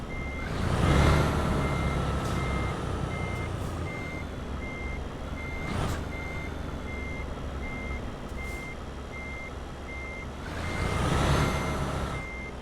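Mercedes-Benz truck in Euro Truck Simulator 2 running as the engine starts, a steady rumble underneath a repeating high reversing beep, with a few louder swells of engine noise near the start and end; nobody talks.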